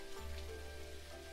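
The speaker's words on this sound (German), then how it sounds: "Ich finde auch super, dass es heute regnet" Rain falls steadily in the farming game Dinkum, a dense, even patter with a low rumble underneath that runs unbroken through the short stretch.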